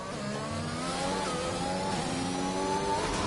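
Race car engine in a racing game at Baku, pulling hard on medium tyres as the throttle comes on early out of a corner, a loud continuous rising whine with steadily climbing pitch throughout.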